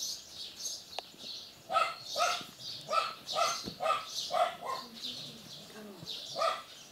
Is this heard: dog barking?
yes